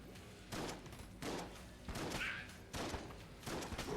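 Bullets fired in the game Enter the Gungeon: a series of dense, booming volleys recurring roughly every half second to second over four seconds, loud and crowded with layered impacts and no talking.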